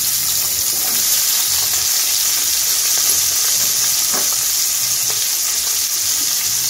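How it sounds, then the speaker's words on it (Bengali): Eggplant frying in oil left over from frying fish, a steady close sizzle with soft crackles running evenly throughout, with no voices. "মাছ ভাজা তেলে এখন আমি বেগুনটা একটু ভেজে নেব।"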